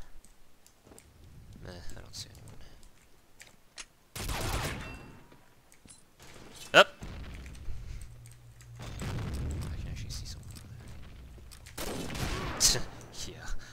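Gunfire from the online shooter Combat Arms: sharp bursts and single loud cracks come at irregular moments among quieter game clicks and ambience, with a player talking at times between the shots.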